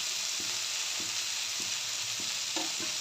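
Chopped fenugreek leaves fry with garlic in a pan for dhaba-style lasooni methi, a steady bright sizzle with soft spatula scrapes and taps every half second or so, close up and with no talking.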